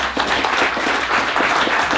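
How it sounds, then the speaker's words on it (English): Audience applause at a regenerative agriculture presentation in Auckland, a full, close burst of many clapping hands, steady throughout and without talk. "So give a big round of applause to Shane."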